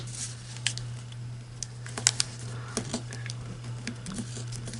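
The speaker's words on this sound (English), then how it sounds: "And we're folding right on that point." Paper being creased and folded for a 3D turkey leg craft gives soft rustles and crisp crinkles in close irregular bursts over a steady low hum.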